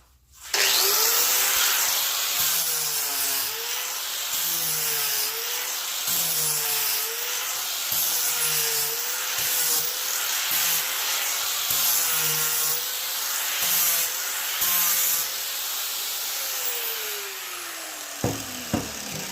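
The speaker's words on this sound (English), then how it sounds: "you could go down the middle with the angle grinder and make some grooves" An angle grinder cuts grooves into a wooden bread board, a loud steady whine with rhythmic scraping passes back and forth, close and continuous, ending in a few clunks.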